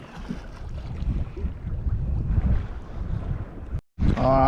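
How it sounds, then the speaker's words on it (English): A motorboat approaches across open sea water near a fishing kayak, its low engine rumble steady and rising under heavy wind buffeting the microphone before a brief dropout near the end. "There's a boat coming right up."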